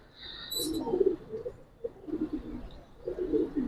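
Giribaz pigeons coo in low, soft bursts at close range, with a short high chirp early on and pauses between the cooing phrases.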